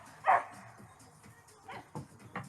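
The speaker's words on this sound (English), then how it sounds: "That's my doggy." A pit bull puppy gives a few short yips and small barks, fairly faint and spaced out, in a quiet indoor room.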